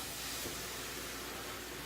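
Soft, steady hiss of shrimp steaming with a little water in a covered pan, a continuous faint sizzling rush with no breaks, close and alone.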